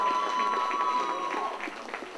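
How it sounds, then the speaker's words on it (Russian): Applause from a KVN comedy contest audience rises and fades under a faint background tone, with scattered claps trailing off toward the end. "Ваши аплодисменты."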